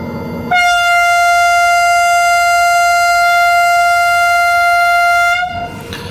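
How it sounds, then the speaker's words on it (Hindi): A Pakistan Railways HGMU locomotive sounds its whistle at Multan Cantt station, one loud steady harmonic blast lasting about five seconds over faint station ambience. "HGMU का विसल बहुत ही खूबसूरत है।"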